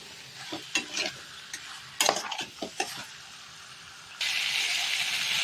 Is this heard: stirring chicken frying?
yes